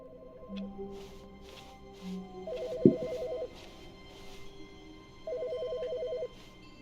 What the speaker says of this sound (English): Wait, the phone's calling again.